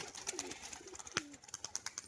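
A white-crested pigeon coos softly a few times close by, low throaty notes mixed with faint clicks and rustling.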